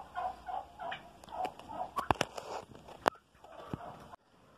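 Turkeys gobble in a poultry pen, a close run of warbling calls with scattered sharp pecks and shuffling steps, ending abruptly.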